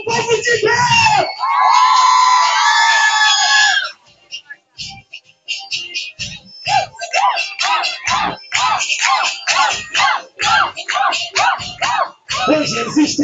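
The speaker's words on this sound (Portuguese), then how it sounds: "Eu quero ver o grito do povo de Deus." A large crowd at a gospel march in Brazil shouts and cheers loudly, a sustained roar of voices and then a series of rhythmic chanted bursts and yells, close and dense.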